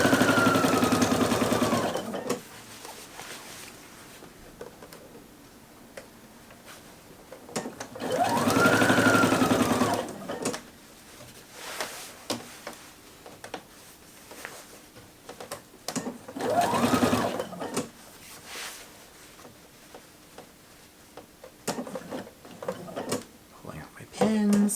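A domestic sewing machine runs in several bursts while stitching the long bodice seam of a dress, with quiet pauses between runs and a voice speaking over parts of it.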